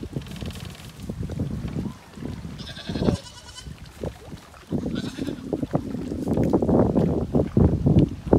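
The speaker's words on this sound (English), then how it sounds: "We got fresh goats" Goats in Rhode Island bleating on a windy day outdoors, several nasal bleats close by over gusting wind rumble.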